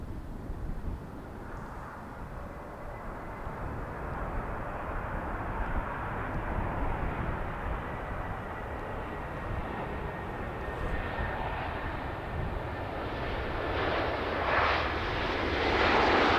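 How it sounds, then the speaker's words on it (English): A Ryanair jet arrives at Manchester Airport, its engine roar building steadily over the span and growing louder and closer toward the end, with no voices. "Another Ryanair flight to arrive."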